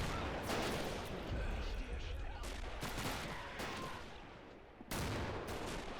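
Sustained gunfire and explosions in the World War II strategy game Men of War Assault Squad 2 during a siege of Fortress Brest, a dense continuous barrage with sharp louder blasts standing out.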